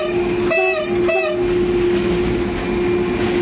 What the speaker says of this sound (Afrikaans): En daar is die toeter.